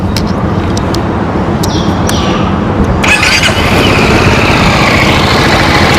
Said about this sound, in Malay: ni bunyi engine dia